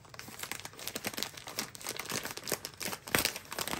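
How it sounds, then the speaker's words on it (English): Plastic packaging around a yarn package crinkles and crackles as it is opened, with a dense run of close, irregular rustles and a sharper tearing burst near the end. "I apologize for the crinkling"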